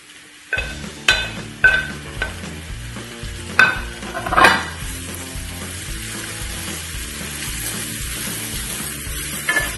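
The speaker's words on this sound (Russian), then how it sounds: "Растапливаем на сковороде сливочное масло. Добавляем шампиньоны и обжариваем." Champignon mushrooms fry in melted butter in a pan, giving a steady sizzle. Several sharp clatters near the start come from stirring, then the frying settles to an even hiss.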